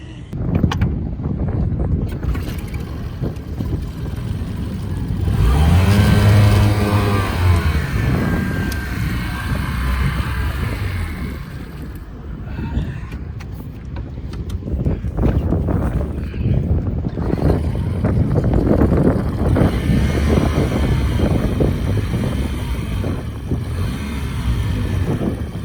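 A troublesome outboard motor runs on a boat near Nassau, Bahamas, a loud, steady engine drone that swells midway, mixed with wind buffeting the microphone and rushing water, with people talking over it at times.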